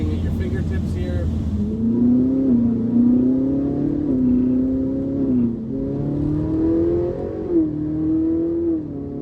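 A 2011 Ferrari 458 Italia engine pulling on a road test, its note rising steadily through several paddle upshifts with short dips between gears, loud and continuous from inside the car.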